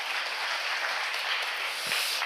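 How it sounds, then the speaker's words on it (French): Audience applause for a lecturer after a French talk on the evolution of the Earth-Moon system, a dense steady wash of clapping heard alone, moderately distant and even throughout. "on peut l'applaudir très fort"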